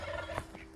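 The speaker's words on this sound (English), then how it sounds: "Turkeys." A short, quavering gobble from turkeys that are finishing their molt, heard outdoors on a property in a Pacific Northwest garden, moderately close and fairly soft.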